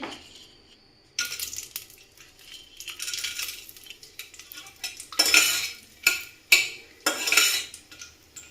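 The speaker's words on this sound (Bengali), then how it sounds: "মা এবার তেলে ফোড়ন দিচ্ছে" Whole spices such as bay leaf, black pepper and cloves tempering in hot oil, heard as bursts of sputtering hiss mixed with metal utensil clinks and pan clatter, in a home kitchen.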